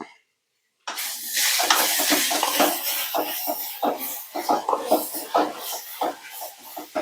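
Onions, green chillies and sliced tomatoes are stirred in a pan after a short silence, with a continuous sizzling hiss and rhythmic scraping strokes of a spoon against the metal.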